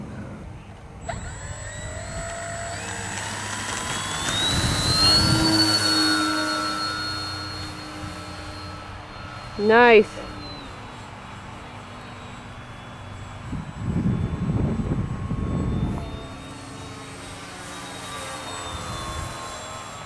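A small RC model FMS P-47 Thunderbolt plane whines overhead on a windy day, its engine pitch rising and fading as it passes at half throttle, with wind noise and a brief spoken word.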